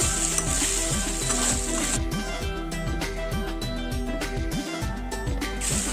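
Fried pointed gourd is stirred into a spice masala in a pan, making a steady sizzle with repeated rhythmic scraping strokes of a spoon against the pan, close and fairly loud throughout.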